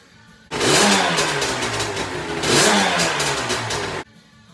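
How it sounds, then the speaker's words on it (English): A Targa 275 engine fires up in a workshop and runs loud and close, revving in two strong surges before cutting off abruptly, with no talking over it. "We've got the engine running."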